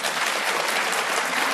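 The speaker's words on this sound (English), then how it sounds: "Masochistic applause for someone who can't decide whether he's waving or drowning in his own tones." Audience applause during a public debate, a loud, steady wash of dense clapping that fills the whole moment without pause and with no voices over it.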